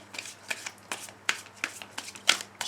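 A Wheel of the Year tarot deck is shuffled by hand in a quiet room, with crisp, riffling card slaps repeating about every half second, close and clear.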